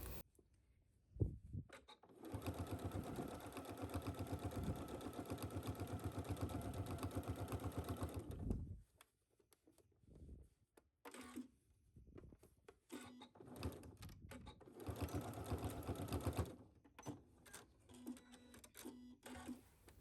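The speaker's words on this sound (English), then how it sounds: "at our sewing machine, we are going to sew this down at 3/8 seam allowance" A sewing machine stitches a seam on a cargo skirt in two long runs of fast, even mechanical whirring, with pauses and small handling clicks between them and no voices.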